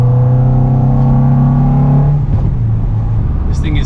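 A cheap Acura Integra daily driver's engine revs and hums loudly up close with a steady droning tone, then the pitch drops away into a rougher, quieter whir near the end.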